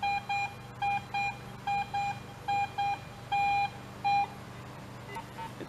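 AT Pro metal detector gives repeated short, evenly spaced electronic beeps over a buried target, clear and fairly faint against quiet outdoor background.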